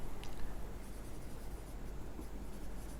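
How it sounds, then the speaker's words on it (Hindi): Pen scratching steadily across paper as accounting transactions and amounts are written out quickly, a continuous close, soft scribbling texture with no voices. "तो ये मैं फटाफट सभी ट्रांजैक्शंस लिखता हूँ और अमाउंट्स भी साथ साथ लिखता हूँ।"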